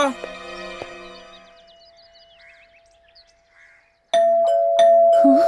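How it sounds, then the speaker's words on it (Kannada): A ding-dong doorbell rings indoors, one chime at the start, then two more sharp, loud rings a few seconds later after a quiet pause. "ಅವಾಗಿಂದ ಬೆಲ್ ಆಗ್ತಾ ಇದೆ."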